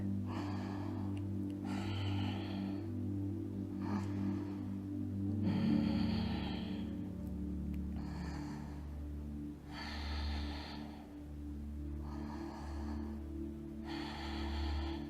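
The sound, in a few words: deep breathing while holding a yoga pose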